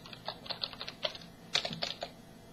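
Fingers typing on a computer keyboard, a quick, irregular run of light clicking taps heard close and fairly quiet, with no voices.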